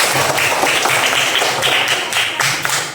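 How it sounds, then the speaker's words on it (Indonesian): A classroom of students claps for classmates with perfect scores, a loud, even patter of many hands clapping close by. "Tepuk tangan untuk yang mendapat nilai yang sempurna."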